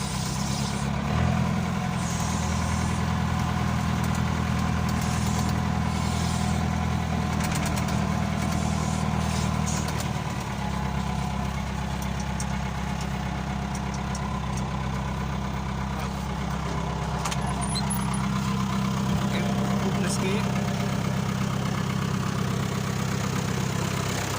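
A John Deere 2140 tractor engine runs steadily and loudly, a continuous low mechanical drone with no talk over it while the tractor cruises between yards.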